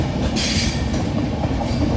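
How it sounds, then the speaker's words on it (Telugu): The Prasanthi Express rolls steadily on its rails near Gooty Fort, giving a loud, continuous rumble with rhythmic clatter of wheels over track joints, heard from inside the moving train without speech. "ట్రైన్ వచ్చేసి గుత్తి కోట నుంచి అయితే బయలుదేరింది."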